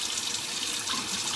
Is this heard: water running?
yes